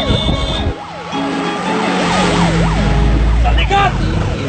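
An ambulance siren wails in a rapid rising-and-falling pattern, loud and nearby amid road traffic with an engine rumbling underneath, while voices are heard at the start.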